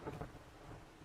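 Rain and rolling thunder in the survival game 7 Days To Die, a low rumbling wash of rainfall with a soft thunder swell near the start, steady and fairly quiet with no talking.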